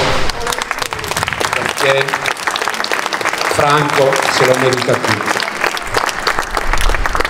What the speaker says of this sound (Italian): Vi chiedo di fargli un applauso